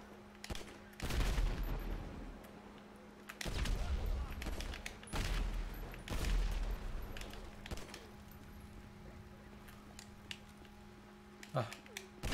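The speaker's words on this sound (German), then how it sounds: "Die explodieren." Zombies blowing up in a chaotic GTA 5 mod, a series of sharp explosive bursts and crackling booms, some in quick succession, with gameplay noise between.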